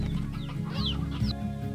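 Chickens cluck in the video game Slime Rancher, a steady stream of soft, close clucks and chirpy fowl calls layered over a continuous game background hum and music.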